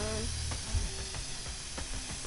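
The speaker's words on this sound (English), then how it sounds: "Spray painting my way to town." A spray paint can hisses in short, steady bursts in the Streets of Rogue video game, a continuous airy spray with brief breaks, while soft thuds and talk sit in the background.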